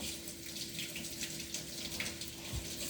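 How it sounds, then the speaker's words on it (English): Water runs steadily from a kitchen tap while hands are rinsed, a soft continuous splashing heard close up and fairly quiet, with no talking. "I'm going to rinse my hands real quick"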